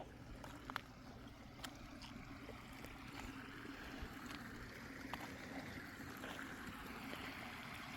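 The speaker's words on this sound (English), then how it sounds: "Waterfall sounds so pretty." Steady rushing water of a waterfall fills the scene as a continuous broadband wash, moderately distant and even throughout, with no talking over it.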